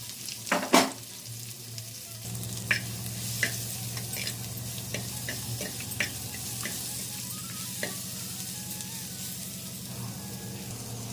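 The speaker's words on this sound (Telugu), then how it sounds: "పులుసు కర్రీకి ఆనియన్స్ కూడా వేసేసానండి ఇవి ఆనియన్స్ కొంచెం ఫ్రై అవ్వాలి" Chopped onions fry in a clay pot as the base for a drumstick pulusu curry, with a steady close sizzle, a few sharp scrapes of stirring near the start and occasional light clinks throughout.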